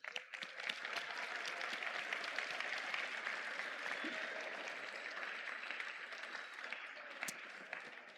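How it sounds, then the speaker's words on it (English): A large audience at a FIRST robotics competition gives a round of sustained applause, a steady far-off wash of many hands clapping that runs throughout and tapers slightly at the end. "Let's have another round of applause for all of our mentors and coaches here today."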